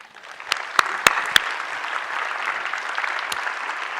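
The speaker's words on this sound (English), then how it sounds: "can we have one more round of applause for these four amazing people" Audience applause at a conference event, a steady wash of clapping from a crowd with a few sharper, louder claps standing out near the start.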